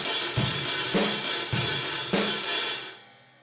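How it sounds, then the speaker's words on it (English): Rock drum beat played with a heavy, loosely opened hi-hat washing over steady kick and snare hits, loud and close, alone with no talking, ringing out at the end. "So the beat with the heavy hi-hat sounds like this."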